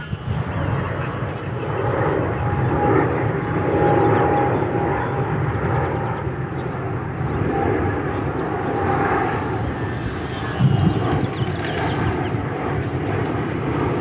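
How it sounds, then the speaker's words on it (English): A small electric RC airplane, a sub-250g Ki-84 Japanese warbird model, passes overhead with a soft whirring drone, rising and falling gently over several seconds, fairly quiet with steady background noise. "Definitely the most quiet airplane I have ever flown in terms of an RC airplane."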